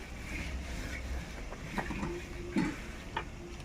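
Cumin and coriander seeds being stirred in a pan for a ridge gourd chutney, a soft scraping and gentle sizzle with a few brief louder scrapes of the spoon, steady and close.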